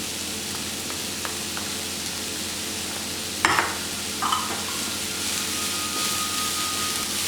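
Cabbage and capsicum sautéing in a pan while momos are prepared, a soft continuous sizzle with a couple of brief stirring clatters midway.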